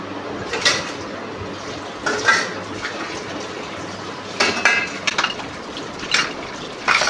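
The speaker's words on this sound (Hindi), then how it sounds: "और आधे बर्तन धुल लिए थे मैंने" Dishes, pots and cutlery are washed by hand under running water at home, with a steady wash of water broken by scattered clinks and clatters of utensils, and no talking.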